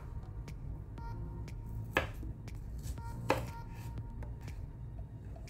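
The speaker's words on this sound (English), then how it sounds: "And we're gonna chop the shallots." Shallots being chopped with a knife for a sweet potato, tomato, lime and cardamom vegan stew, heard as a few sharp board knocks over a steady low hum.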